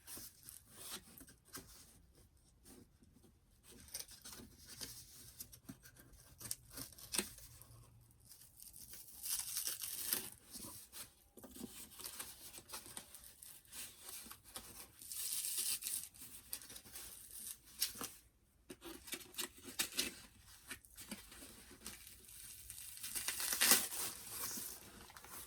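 Scissors and hands working through Barbie Signature doll box packaging, a continuous close mix of cardboard and plastic crinkling, tearing and snipping with scattered louder crunches.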